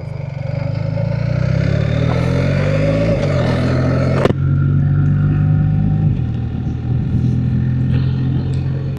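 A BMW or KTM motorcycle pulls away on a road, its engine droning loud and steady with rising pitch through gear changes, a sharp clack midway, no talking.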